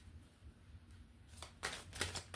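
Tarot cards being shuffled by hand, a few quick riffling bursts in the second half after a quiet start, close and moderately faint, no talk.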